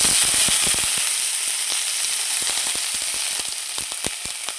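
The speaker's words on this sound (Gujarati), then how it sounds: "અને લાલ મરચા અને તમાલપત્ર અને હવે આપણે થોડીક લીલી ડુંગળી ઉમેરશું" Green onions with cinnamon, red chilies and bay leaf fry in hot oil in a pan for spinach khichdi, making a loud, steady close sizzle dotted with rapid crackling pops.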